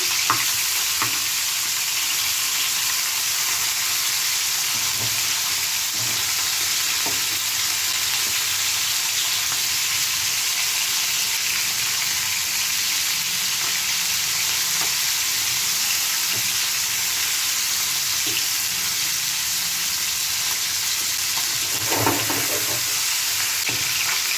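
Chicken pieces for a peas chicken curry fry in a pan with a steady, close, broadband sizzle, plus occasional stirring clinks and bubbling pops.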